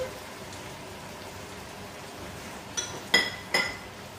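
Olives dropped into a cooking dish with onions, a few sharp clinks and small impacts near the end after a quiet stretch of low background noise.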